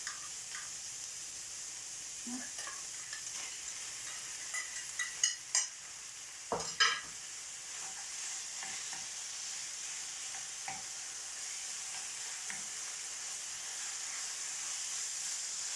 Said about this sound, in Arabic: دابا غادي ندير هاد الفنجان، هاد الهضيره تاع الفنجان حتى هي نديرها